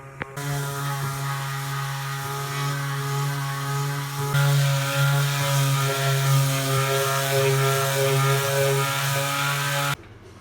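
A power sander on a boat deck whines steadily with a humming motor tone, growing slightly louder partway through, then cuts off abruptly near the end.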